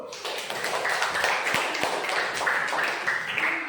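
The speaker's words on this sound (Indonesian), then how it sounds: "Yuk, tepuk tangan dulu." A school class claps together in a dense, steady burst of applause that fills the classroom for several seconds, with no one speaking.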